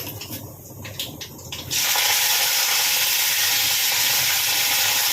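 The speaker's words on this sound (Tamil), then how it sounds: "இந்த பக்கம் சாம்பார் ரெடியாக கடுகு பொரிஞ்சிடுச்சு." Mustard seeds spluttering in hot oil while tempering for sambar. After a softer, crackly start, a loud, steady broadband sizzle fills the rest of the clip, with no voices.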